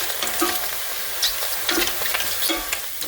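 Brussels sprouts and mushrooms sizzle and crackle steadily in a hot pan just after a little water goes in, a close, continuous hiss with bursts of spattering and light stirring.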